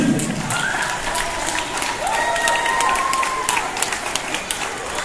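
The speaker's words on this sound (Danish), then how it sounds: "Og vi giver lige en klapsalve til alle pigerne." Crowd applause for the girls on the podium at a swimming medal ceremony in Birkerød, a steady dense wash of clapping that holds at an even level throughout, with a few whistle-like tones riding over it.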